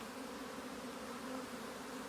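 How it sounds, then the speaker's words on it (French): A hornet buzzes beside beehives in an apiary, a steady, close, droning hum that holds without pause for a couple of seconds. "le frelon qui me casse les couilles, celui-là"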